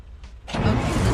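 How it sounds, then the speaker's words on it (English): A truck engine fires up in the Driving Life driving game, a brief quiet stretch giving way to a sudden loud, steady rumble that holds through to the end. "Why don't you just start the truck"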